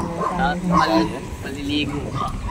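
Dogs bark and yip a few times in the background while people talk over them.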